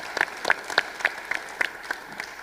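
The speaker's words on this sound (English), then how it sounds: "so a big clap for everyone." An audience at an IFAMA agriculture conference session claps lightly in a sparse, evenly spaced patter of distinct hand claps, with no talk.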